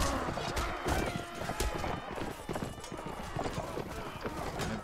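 Horse hooves clip-clop in the medieval combat game Mount & Blade Warband, a steady galloping patter mixed into dense battle noise with clashing and crowd din throughout.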